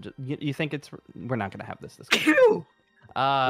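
A single loud sneeze bursts out in the middle of conversation, preceded and followed by people talking nearby.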